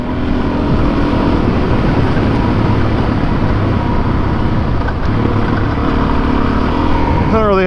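A Suzuki DRZ400S motorcycle at high speed on Muletown Road, its engine droning steadily loud and close under rushing wind for the whole stretch, with a brief rising whine near the end.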